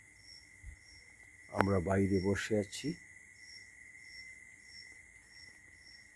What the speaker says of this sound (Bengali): ঝিঝি পোকা ডাকছে চারিদিকে।